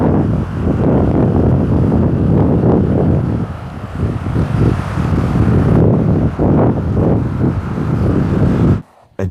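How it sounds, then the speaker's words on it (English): Strong wind buffets the microphone on a seaside promenade in Cyprus, a loud continuous roar with gusty surges that cuts off abruptly near the end. "It's pretty windy here on the promenade."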